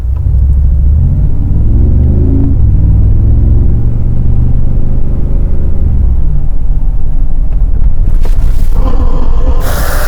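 A Mercedes G-Class spins on a driving course at an experience center with ESP switched off, its engine a loud, continuous low rumble that swells and surges, ending in a burst of harsher broadband noise.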